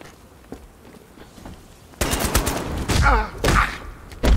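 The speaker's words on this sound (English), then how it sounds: "Where did I get shot from?" Gunfire in the video game Batman Arkham Knight, a rapid burst of loud shots and impacts that starts suddenly after a quiet stretch and continues with heavy thuds, without speech.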